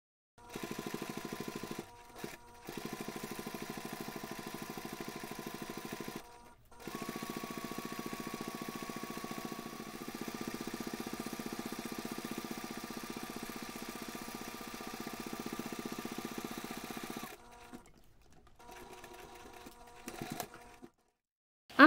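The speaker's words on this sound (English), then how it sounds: "you can take this to the machine and then you can top stitch the strap along all sides" A sewing machine top-stitches a fabric backpack strap with a fast, even mechanical hum and buzz in several long runs, stopping briefly between them, fairly quiet and close.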